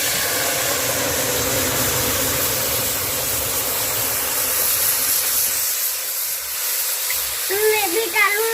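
Fresh sugarcane juice strained straight into a hot wok gives off a loud, steady rush of steam and hiss. The sound dies away near the end and a few brief clinks follow.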